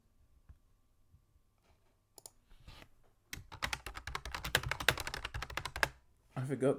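Computer keyboard typing during a live stream, a burst of rapid clacking keystrokes that starts quietly, then grows loud and close to the mic, with brief talk faintly underneath.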